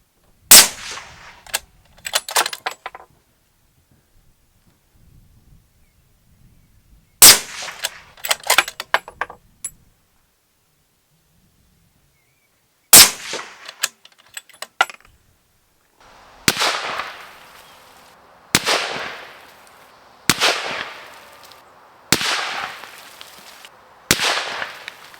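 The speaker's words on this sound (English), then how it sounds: "shooting this Bergara B14 Wilderness in 300 PRC" A Bergara B14 Wilderness rifle chambered in 300 PRC fires outdoors. Several sharp, loud shots ring out, each followed by a decaying echo, with long pauses between groups and quicker, evenly spaced shots toward the end.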